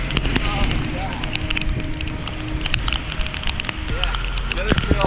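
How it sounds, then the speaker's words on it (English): Steady rain falls on a woodland trail, a dense close patter with scattered sharper drops, continuous and moderately loud throughout. "It is raining."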